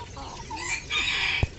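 Red bantam chickens kept warm under heating coils give soft, near clucks, with a slightly louder call toward the end and a sharp bump just before the finish.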